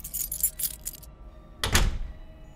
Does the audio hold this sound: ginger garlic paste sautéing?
no